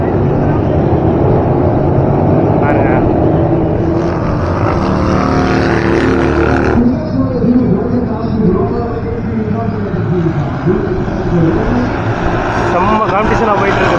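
Powerful engine roar of Royal Enfield Continental GT racing motorcycles sweeping past at a 2023 cup race, swelling and shifting in pitch as they go by, loud and continuous over background crowd noise.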